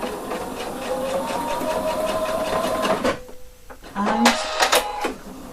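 A sewing machine stitches along a jacket corner finished with ribbon, running steadily in a close, continuous burst that pauses briefly near the end before resuming in short runs.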